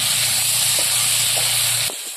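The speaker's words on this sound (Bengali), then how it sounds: "পেঁয়াজগুলো একটু লাল লাল করে ভাজি নেব।" Onion, tomato and green chilli frying in oil for a Bengali village cauliflower and fish curry, a steady close sizzle with a low hum underneath that cuts off near the end, no talking.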